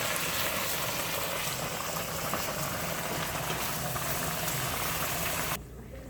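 Marinated chicken cooking in oil over medium-high heat, with a steady loud sizzle and bubbling that holds evenly, then drops off abruptly near the end.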